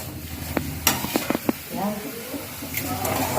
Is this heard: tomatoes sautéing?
yes